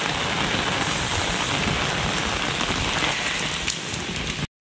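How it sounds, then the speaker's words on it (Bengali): Heavy rain from Cyclone Remal pounds down in the Sundarbans, a dense, loud, unbroken roar of drops on surfaces that cuts off abruptly at the very end, with no voices. "আর এই মুহূর্তে কিন্তু খুব বৃষ্টি হচ্ছে, প্রচুর পরিমাণে বৃষ্টি হচ্ছে"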